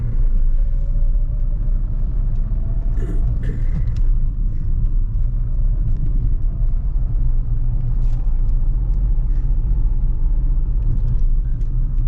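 A new car rolls over a speed breaker, steady low road rumble and engine drone inside the cabin with a few light knocks and thumps around the bump, no talk.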